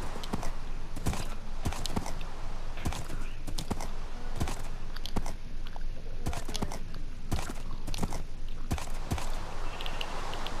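Horse hooves walk in the Minecraft video game, a steady series of sharp clip-clop steps repeating at a walking pace over a constant background bed, with no talking.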